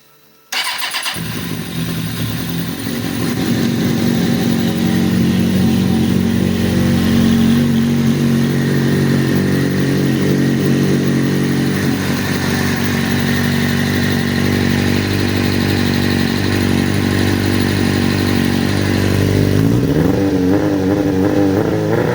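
Suzuki GSX-R 600 motorcycle engine cranking and firing up after a fuel delivery repair, then settling into a loud, steady idle with light revs, close to the bike and with no voices.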